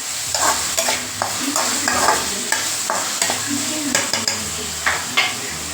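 Tomatoes with salt and turmeric sautéing in a pan while a spoon stirs steadily, giving a continuous close sizzle broken by repeated scraping and clinking strokes.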